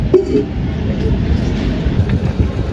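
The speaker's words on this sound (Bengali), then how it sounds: "কত আস্তে আস্তে চলছে মেট্রোটা স্পিড নিতেই পারছে না" A metro train creeps along slowly in strong wind, giving a steady low rumble that holds throughout the short stretch, with no clear talk.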